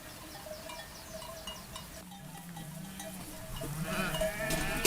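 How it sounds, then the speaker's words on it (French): A flock of ewes is gathered into a funnel-shaped pen for morning hand milking on a farm, with repeated overlapping bleats, a faint clanking of bells, and steady rustling and shuffling of animals close by. "Les brebis sont parquées dans un enclos en forme d'entonnoir que Sandra prend bien soin de refermer."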